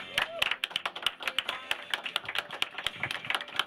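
A studio audience claps to welcome a guest, Simona, with quick, crisp, fairly close handclaps. Voices murmur faintly beneath the applause.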